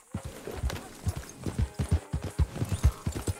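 A horse named Buell trots in Red Dead Redemption II, its hooves clip-clopping in a steady, even rhythm of close, distinct thuds.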